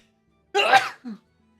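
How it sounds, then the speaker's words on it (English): A single sharp sneeze, close and loud, followed by a brief softer exhale, then quiet. "I do need to sneeze"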